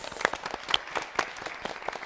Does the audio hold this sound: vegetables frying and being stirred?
no